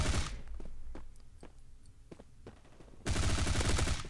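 Bursts of gunfire from the video game Bullet Force, loud automatic fire at the start and a sustained heavy barrage at the end, with scattered single shots in between.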